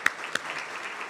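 A brief burst of audience clapping at a Douglas County, Georgia State of the County address, a few sharp claps standing out over a soft patter.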